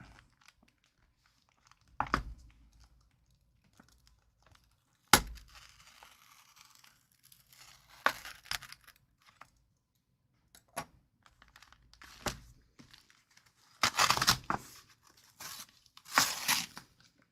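A FedEx shipping envelope being torn open, heard as scattered sharp rips and crinkles, with a sudden loud tear early on and louder bursts of tearing toward the end, no speech.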